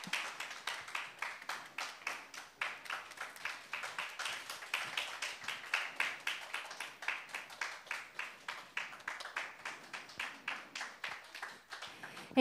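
At a high school social business contest award ceremony in Japan, an audience gives sustained applause for the student presenters, heard as rhythmic, fairly faint clapping that pulses steadily for several seconds with no voices.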